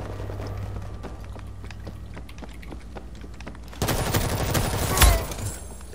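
Sniper gunfire in the World War Z video game: a run of quick sharp shots gives way to a louder, dense burst of firing and one heavy, booming report before the noise fades slightly.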